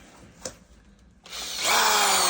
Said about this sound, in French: Voilà, j'ai branché la perceuse.